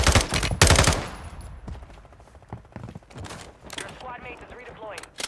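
Rapid automatic gunfire from the Hurricane gun in a video game, loud bursts up front that thin into scattered shots and clatter, with a voice talking over the later part.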